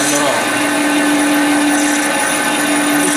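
A drilling machine runs steadily while boring a hole for a hinge pin, giving a loud, constant mechanical whine with a sustained tonal hum and no pauses.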